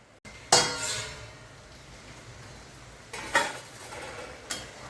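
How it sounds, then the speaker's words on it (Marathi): A metal lid set down tilted on a cooking pot, one sharp clink early followed by a softer clatter and another light tap later, quiet background between, no talking. "असं थोडंसं झाकण ठेवायचं तिरकं."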